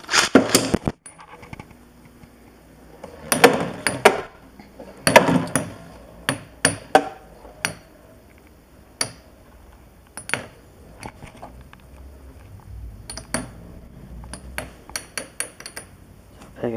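Beyblade spinning tops, including Cosmic Pegasus, clash in battle in a small cup-shaped stadium, giving sharp metallic clinks and clatters in irregular clusters, loud and close, with quieter gaps of whirring between the hits.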